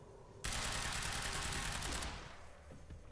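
A fast burst of gunfire from the time-bending action game Quantum Break starts abruptly and rattles steadily for about a second and a half before cutting off, followed by a quieter tail.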